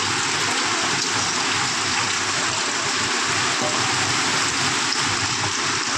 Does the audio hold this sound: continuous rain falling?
yes